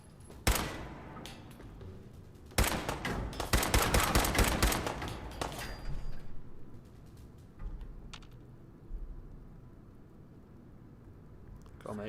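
Gunshots in the video game Fallout 4: a single shot, then a rapid burst of loud cracks lasting a few seconds, followed by scattered quieter reports and low background noise.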